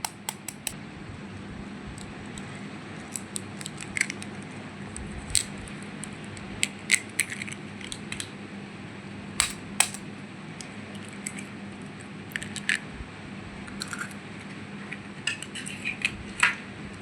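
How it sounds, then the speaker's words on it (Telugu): Semolina cake batter being whisked in a bowl, giving a steady run of faint, quick metallic clicks and scrapes from the whisk over a soft background hum, with no talking. "బ్యాటర్ని ఇలా విస్కర్తో తిప్పుతూనే ఉండాలి"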